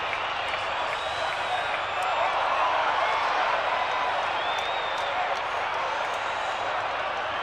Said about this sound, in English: Crowd roared.